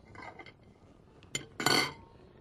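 A fork and other cutlery clink against dishes at a dining table, giving a few faint, sharp metallic chinks with a brighter cluster near the end.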